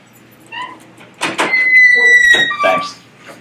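A door in a lecture hall is opened: a couple of knocks and thuds, then a drawn-out squealing creak of the hinges that rises and falls, fairly close and loud, with a faint murmur of a voice just before.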